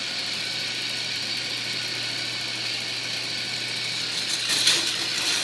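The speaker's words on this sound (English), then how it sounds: "There is a freaking gearbox. That's what powers the whole thing." A K'NEX roller coaster's gearbox motor runs with a steady, continuous mechanical drone and faint ratcheting, holding an even level throughout with a brief louder rattle near the end.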